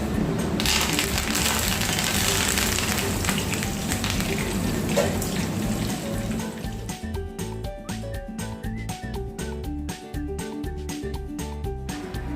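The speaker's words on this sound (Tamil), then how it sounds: "இது கூடவே ஒரு கைப்பிடி அளவு கருவேப்பிலையும் சேர்த்து பொரித்து எடுத்துக்கிடலாம்" Curry leaves crackle and sizzle in hot oil while chickpeas fry for a crunchy masala snack, a dense steady frying hiss that thins into sharp, rapid popping and spitting toward the end.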